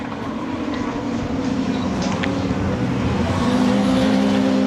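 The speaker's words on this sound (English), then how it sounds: "we ride with Thompson in 4th place" Onboard a touring race car in the 2007 WTCC race at Oschersleben, Germany: a loud, steady engine drone continues throughout, with a faint commentator's voice beneath it.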